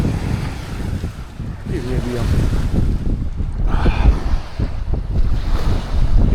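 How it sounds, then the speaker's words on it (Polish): Strong wind gusts across a beach during metal detecting, a steady close blustery roar buffeting the microphone with surf-like rushing throughout and a faint voice in the background. "wieje. Jak pewnie słyszycie."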